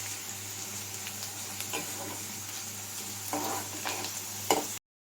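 Onions fry and sizzle in a pan for a Rayalaseema kanchara kayalu dish, a steady close crackling hiss with occasional stirring scrapes and no talking.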